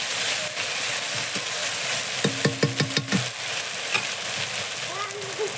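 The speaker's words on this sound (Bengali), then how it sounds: "মশলাটা ভেজে নেব।" Spice paste frying with chopped onion and whole cumin in a pan gives a continuous close sizzle, with a short burst of rhythmic stirring clatter in the middle and no voices.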